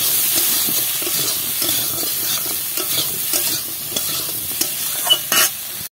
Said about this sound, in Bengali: পরিমাণ মতন হলুদ দিয়ে আবার একটু নেড়ে চেড়ে নেব।